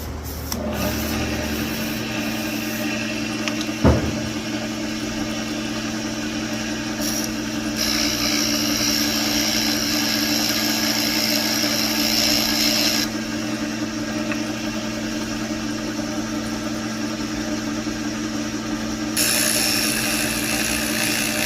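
A boring bar cutting a cylinder bore in a 1950 Dodge engine block, a loud continuous mechanical drone and whir with a steady hum beneath, plus a single sharp knock early on.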